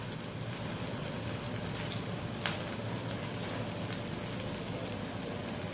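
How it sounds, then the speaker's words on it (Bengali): Eggplant slices fry in a pan in a steady, dense sizzle that runs unbroken and close, with one faint clink partway through. "এখন বেগুনটা ভেজে নিচ্ছি"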